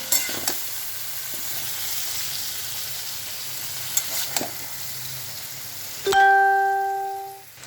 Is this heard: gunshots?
no